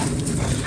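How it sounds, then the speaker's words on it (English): Boxer dogs barking and yipping close by in a short, continuous burst of dense, loud canine noise with no talking. "So you think you want boxer dogs? This is what you get to deal with."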